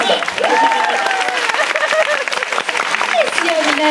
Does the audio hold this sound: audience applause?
yes